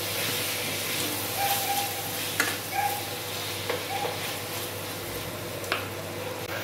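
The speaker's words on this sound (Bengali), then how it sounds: "ভালো করে ভাজা ভাজা হওয়া অবধি আমরা অপেক্ষা করব।" Vegetables and spices fry in a pan for egg biryani, a soft, steady sizzle broken by occasional light stirring scrapes and clicks, close and fairly quiet.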